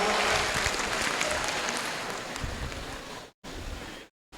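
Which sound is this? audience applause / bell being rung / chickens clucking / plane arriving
audience applause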